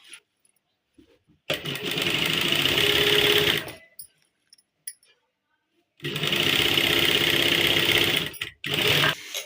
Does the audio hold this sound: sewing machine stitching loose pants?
yes